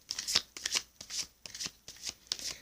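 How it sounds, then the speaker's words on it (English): A Sage Goddess Gemstone Oracle card deck being shuffled, a series of crisp riffling bursts in a steady rhythm, close and fairly quiet with no talking. "I'm shuffling now for you the Sage Goddess Gemstone Oracle deck"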